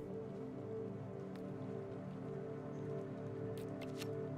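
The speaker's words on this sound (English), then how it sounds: "This fucking rain is flooding our neighborhood." Heavy rain falling on a neighborhood, a dense steady patter and hiss that holds at an even level throughout, with a few sharper drips late on.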